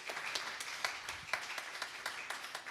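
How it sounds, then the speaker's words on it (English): A morning service audience applauds, a steady patter of many hands with distinct sharper claps standing out, heard at a moderate distance and fairly quiet overall. "Just applaud, really loud."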